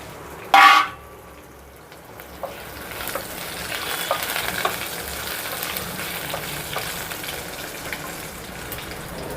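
Cumin, curry leaves and dried red chillies hit hot oil with a sudden loud sizzling burst, then keep frying with a steady, softer crackle and bubbling at close range.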